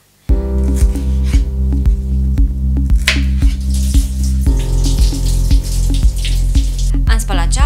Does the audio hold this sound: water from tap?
yes